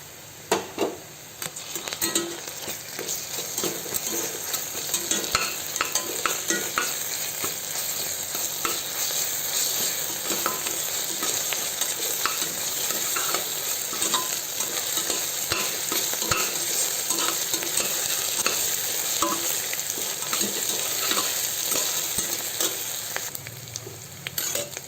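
Ginger garlic paste fries and sizzles in a pan while a spoon stirs it, giving a steady crackling hiss with frequent scraping strokes throughout, close and fairly loud, with no talk.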